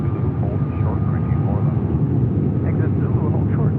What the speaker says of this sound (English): It's an A330-300. Little turn and burn action there on 24 left.